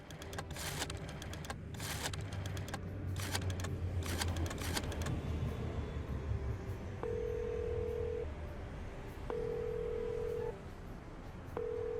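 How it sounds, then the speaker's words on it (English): Rapid clicking keypresses followed by a series of long, steady telephone ring tones, heard as a telephone number is dialled in the video game Chicken Police, the tones repeating with pauses in between. "what happens if I dial"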